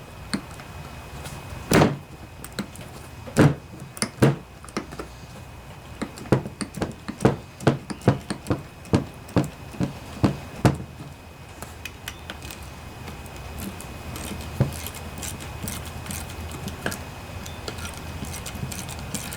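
A wrench loosens bolts on a vintage Briggs and Stratton riding lawnmower engine, with a series of sharp metallic clicks and knocks in irregular bursts, close and moderately loud, thinning out toward the end.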